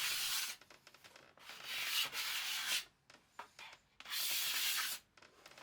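Hand sanding of a wooden pizza peel, with long steady abrasive strokes in two sustained bursts separated by shorter scrubbing passes and brief pauses, close and moderately loud.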